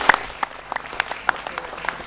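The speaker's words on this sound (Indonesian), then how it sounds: "Mohon tepuk tangannya yang meriah sekali lagi" Scattered applause from an audience at a Semarang community empowerment event, a handful of separate claps and short bursts spread across a couple of seconds, moderately close and without talk over it.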